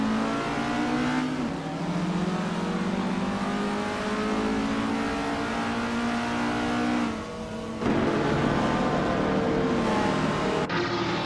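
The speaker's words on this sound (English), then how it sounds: "Red Panda Manatee 4 is driving a 1964 Abarth 850TC Corsa" A 1964 Abarth 850TC Corsa race car engine in a video game race drones loudly and continuously, its pitch sweeping up through gear changes, with sharp drops and renewed acceleration near the end.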